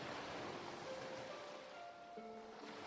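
Ocean waves crest and wash steadily onto the shore in a continuous soft roar, a broad, even rush with faint tonal hints riding over it.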